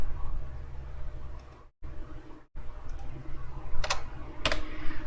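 Keys clatter in steady bursts on a computer keyboard, fairly close. Two short silent gaps break the typing, and a couple of sharper clicks follow near the end.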